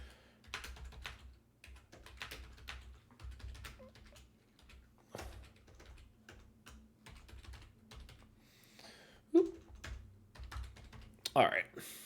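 Code being typed on a computer keyboard, a steady run of close, quick key clicks with irregular pauses and a couple of louder keystrokes, alone without talk.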